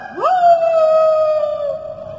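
A mimic performing at a bazaar show imitates a dog's howl with his voice, a single long, loud, rising-then-sustained wail that slowly fades.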